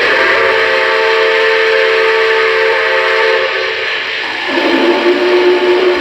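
A loud model steam locomotive whistle from a Lionel Vision Line Big Boy (Union Pacific 4014) blows a long sustained chord, then shifts to a different pitch partway through before continuing strongly.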